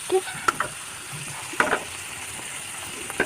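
Tomatoes fry in a pan while being stirred, with a soft sizzle under a few sharp spatula scrapes and clinks, close by, with no talking.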